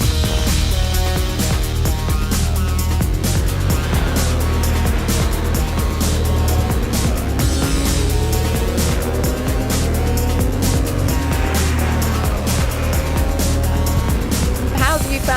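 Radical Clubman's Cup race cars qualifying at the Snetterton 300 circuit, a continuous loud engine roar with shifting pitch as cars pass, with a voice talking over it.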